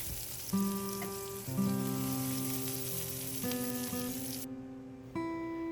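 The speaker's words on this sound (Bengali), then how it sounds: "রসুনটা একদিকে ভাজা হচ্ছে আর পাশেই দিয়ে দিলাম পেঁয়াজগুলো" Garlic and onions fry in oil, a steady broadband sizzle with soft crackles running throughout and a brief dip near the end, while quiet background music with sustained tones plays underneath.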